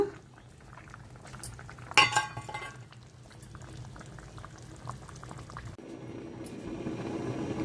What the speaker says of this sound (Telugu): మరుగుతుంది కదండి ఒక గంట పైన పులుసు పెట్టి